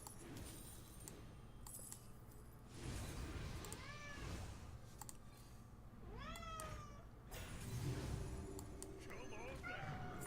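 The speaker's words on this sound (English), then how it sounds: "My cat has got up on his little stand he's got. He's just meowing right at me." A pet cat perched on its stand meows several times, rising and falling cries at close range over background game sounds and some low talk.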